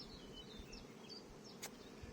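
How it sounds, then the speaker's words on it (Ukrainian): Faint buzzing of honeybees drifts in and out in a quiet outdoor apiary setting in Ukraine, with a brief louder click partway through. "бджоли працюють, їм не до мене"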